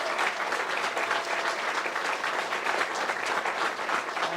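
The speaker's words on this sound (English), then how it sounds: "How about one more round of applause for tonight's honorees?" Sustained, dense applause from a crowd at a university athletic hall of fame induction, steady and full for several seconds with no break.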